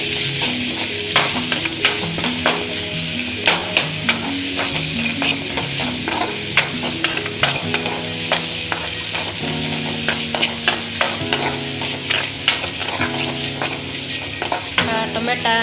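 Onions and tomato fry in a pan under a constant sizzle, with frequent sharp scrapes and clicks from a spoon stirring against the metal, close and fairly loud, and no voices.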